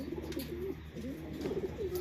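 Low, throaty racing pigeon cooing rolls on in soft repeated bursts, close by, with no talking.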